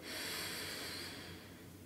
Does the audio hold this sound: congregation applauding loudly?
no